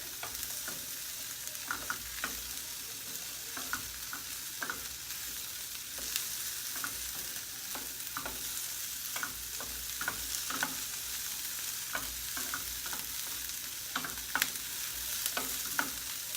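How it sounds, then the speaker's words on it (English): Vegetables fry in a pan over medium heat for a meal with grilled asparagus, making a soft, steady sizzle with scattered small crackles and light stirring taps. It stays fairly quiet throughout. "on top of the asparagus that we're grilling. And I have this over medium heat."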